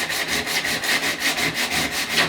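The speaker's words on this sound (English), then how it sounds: "you get some nice coarse 40 grit and you just start sanding the edge" Coarse 40 grit sandpaper scrubs fiberglass around a surfboard fin box in quick, even back-and-forth strokes, a close, steady raspy rhythm with no voices.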